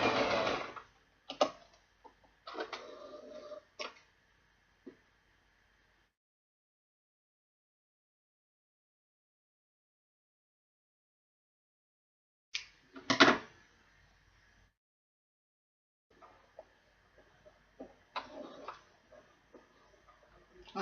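A sewing machine stitches back and forth along the seam of an Ankara and leather bag in short mechanical bursts, pausing for several seconds of near silence in the middle before resuming with a few more brief runs.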